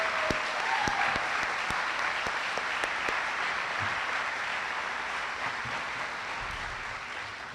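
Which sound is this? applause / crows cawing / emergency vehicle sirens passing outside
applause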